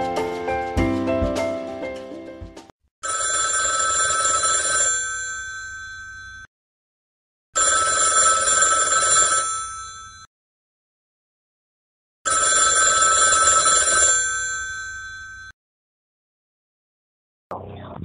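Telephone rings during a radio call-in talk show, three loud bursts of electronic ringing in even rhythm, each lasting about two seconds with silent gaps, after a brief jingle opening.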